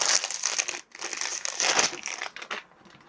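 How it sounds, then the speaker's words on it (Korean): Close crinkling and rustling of plastic wrap being pulled open from around a new Philips S9000 series shaver, in irregular bursts that stop near the end. "안에는 비닐 포장으로 한번더 감싸져 있고요."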